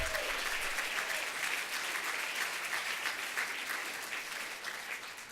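A congressional audience applauds steadily, a dense wash of many hands clapping that holds fairly even throughout and eases slightly toward the end, with no speech over it.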